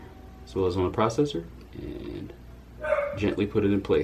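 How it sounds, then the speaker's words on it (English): A dog barks in the background, a few rough barks around the middle, while a person speaks in the foreground while fitting an AMD Ryzen 5 3600 processor into a budget gaming PC. "Sorry for my dog barking."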